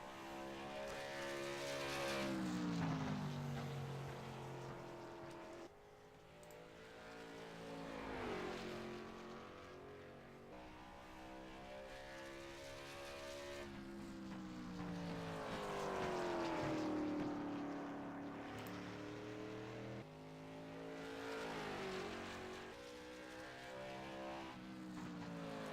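Race cars lap a track at a charity racing event, engines rising and falling in pitch as they pass again and again, heard from a distance in continuous waves.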